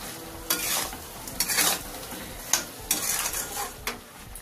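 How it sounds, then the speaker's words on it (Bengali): Ash gourd pieces are stirred through melting sugar syrup in a pan for murabba, with repeated close spoon scrapes over a soft bubbling sizzle and no speech. "ভালো করে এইভাবে নাড়তে হবে।"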